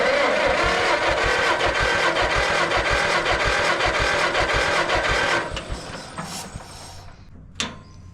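Old John Deere MT tractor engine cranking with the choke on, a loud rhythmic chugging that sputters out partway through, followed by quieter mechanical clatter and a sharp clank.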